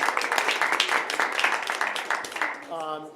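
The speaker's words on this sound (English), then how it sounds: "a little round of applause" A small group claps in a dense patter of applause lasting a few seconds at a regional vocational technical school committee meeting, then a voice begins speaking at the end.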